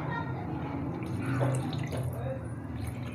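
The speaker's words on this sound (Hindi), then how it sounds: "इसमें हम 2 गिलास मतलब के पानी के डालेंगे" Water is poured into a pot for chicken stock in a home kitchen, a continuous splashing, filling wash that stays steady and fairly close under someone speaking.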